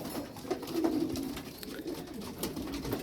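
Domestic pigeons cooing steadily at close range while feeding on leftover wheat and barley grain, a soft continuous murmur of low throaty coos with faint scratchy pecking underneath.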